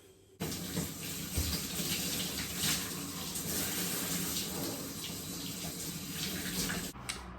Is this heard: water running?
yes